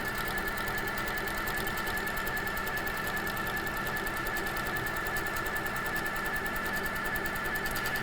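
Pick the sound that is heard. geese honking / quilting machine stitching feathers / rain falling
quilting machine stitching feathers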